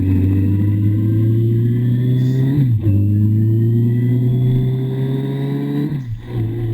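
Motorcycle engine pulling away from a junction, a loud close steady drone rising in pitch through the gears, with brief dips at each gear change and no talking.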